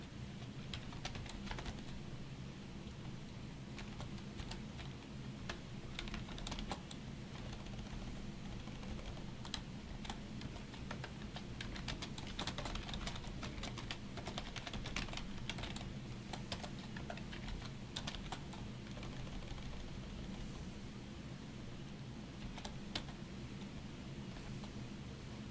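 Steady, close typing on a computer keyboard as code is written, continuous rapid key clicks throughout with no talking.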